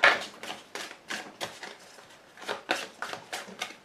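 Cards are cut and riffled by hand during a tarot reading, giving a run of soft, papery flicks and snaps in an irregular rhythm, close and fairly quiet, with no talk over them.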